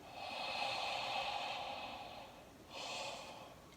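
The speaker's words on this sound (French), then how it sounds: "quand je vais faire mon bâillement" An exaggerated yawn, a long breathy exhalation that swells and fades over about two seconds, followed by a second shorter breathy gust, close and fairly soft with no other sound.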